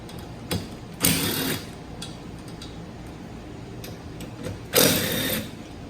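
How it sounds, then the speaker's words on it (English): A 13mm socket and ratchet working wiper arm nuts on a Fiat 500, heard as two short bursts of rapid ratcheting clicks, close and fairly loud, with faint ticks between them and no talking. "with your 13mm socket, go ahead and remove the wiper arms."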